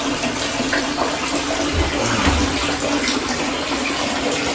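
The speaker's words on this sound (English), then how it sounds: "that's where the water comes out of my bakki shower" Water pours steadily out of a homemade bakki shower filter on a garden pond, a continuous close splashing rush with no speech over it.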